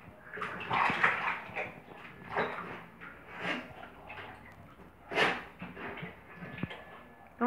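A bull terrier in a warm bath with peanut butter, giving repeated wet splashing and sloshing bursts with snuffling and lapping at close range, without any talking.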